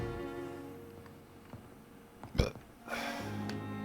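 A person burps once, a short low belch standing out near the middle of the clip, followed by a burst of background sound, with steady low-level room and game noise throughout.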